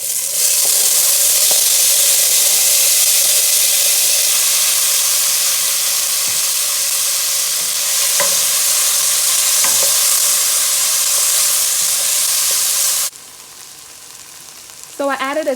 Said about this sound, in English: The onion, tomato, and garlic. We're going to saute that for 2 to 3 minutes.